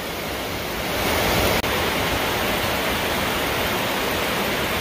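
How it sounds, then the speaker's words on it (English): Heavy rain pouring down in a dense, constant roar, with a brief click partway through. "it's raining. Pouring pretty good."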